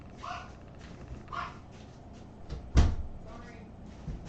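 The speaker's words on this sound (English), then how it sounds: "of course they have to bark at her because she's a big dog and they're little dogs" Little dogs bark and yip in short bursts around a household doorway while a door bangs loudly once, with people talking in between.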